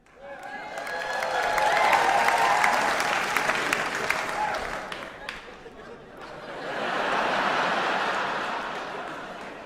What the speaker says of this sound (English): Don't you ever applaud an inanimate object again.